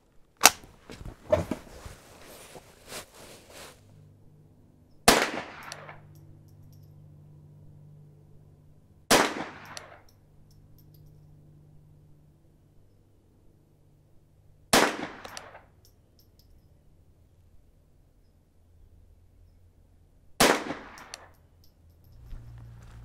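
A Ruger 10/22 rifle fitted with a new bolt fires at an outdoor range: four or five crisp single shots about five seconds apart, each followed by faint echo, with some brief clatter at the start.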